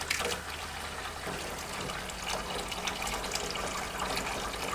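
Cold water pours steadily from a sink tap in an Iveco Daily DIY campervan, a continuous close splashing rush with slight surges and no speech.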